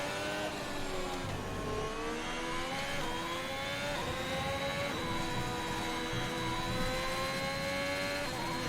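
Formula 1 race car engine in the F1 2021 video game at the Australian Grand Prix, a continuous high-pitched whine rising and falling through repeated gear shifts, loud and close, with no talk.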